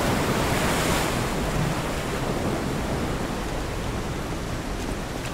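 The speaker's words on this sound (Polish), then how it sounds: "woda tak sobie zaszumiała" Water in the video game Lies of P rushes as a loud, unbroken, broadband roar that stays steady from start to finish, with no voices.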